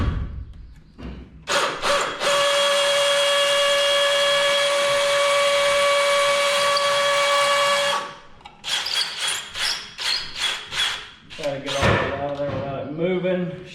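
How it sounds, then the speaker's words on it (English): A hammer drill bores through an electrical box and shim into concrete, a loud, steady, whining, rattling run of about six seconds followed by shorter bursts and the clatter of handling. "We want to hammer drill through the box and the shim into the concrete."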